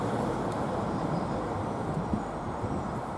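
A passenger train on the Darlington to Saltburn service rumbles steadily at Thornaby station, a continuous low railway drone heard from close by.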